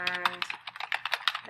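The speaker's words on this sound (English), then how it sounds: "I know I type really loud" Loud, quick typing on a computer keyboard, close up, with rapid uneven clacks of individual keys and a faint voice underneath.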